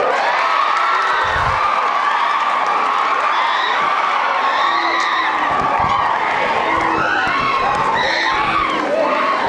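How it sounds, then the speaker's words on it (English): A large crowd at a Republic Day celebration cheers and claps continuously, with scattered shouts and whoops rising above a dense roar of applause, loud and sustained. "Please continue the applause."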